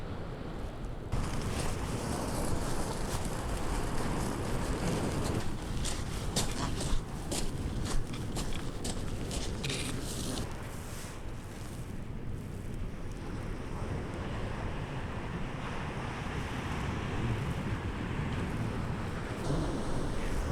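Sea waves wash steadily onto Bexhill beach while wind buffets the microphone, keeping up a continuous roar with some rattling gusts and no voices.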